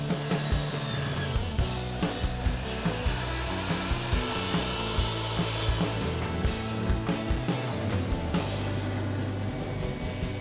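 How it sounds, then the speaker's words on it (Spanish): A Bauker Rotorvital sander with 120-grit sandpaper smooths the edges and rounds the corners of brushed pine, giving a steady, close abrasive scraping with a rhythmic rubbing pulse throughout. No one speaks. "luego con una lijadora Rotorvital Bauker también y una lija grano 120 vamos a suavizar los cantos"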